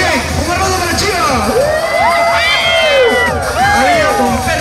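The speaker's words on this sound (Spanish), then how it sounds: "un aplauso para Chiva" An audience at a cosplay runway show cheers and shouts for a participant, a loud lively roar with high whoops and voices rising and falling over the crowd.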